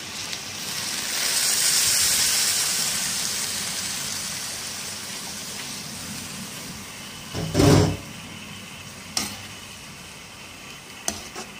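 Water is poured into a hot pan for a steamy hiss that swells and then fades, followed by a few scraping stirs and clanks near the end.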